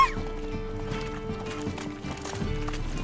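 Horse hooves clip-clop in a steady galloping rhythm in the Witcher 3 game, up close and loud over layered game music, with a brief whinny-like tone near the start.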